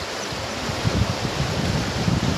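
Floodwater rushes beneath a railway bridge after heavy rain, a steady broad roar of churning water with low gusting surges, close and continuous.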